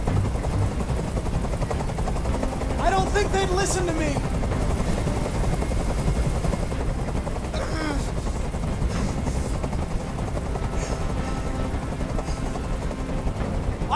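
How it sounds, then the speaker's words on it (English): A helicopter's steady rotor drone in the video game Detroit: Become Human runs throughout, with a voice talking over it and brief sharp bursts of sound mixed in. "I can't stand that noise anymore. Tell that helicopter to get out of here!"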